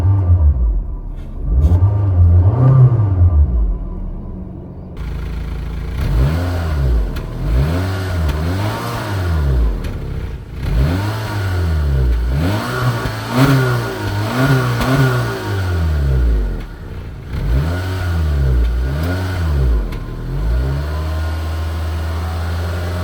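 Honda City S engine revving repeatedly up to its rev limiter of around 4,000 RPM: several loud rising and falling revs in a rhythmic cycle, each peaking and bouncing off the limiter before dropping back to idle.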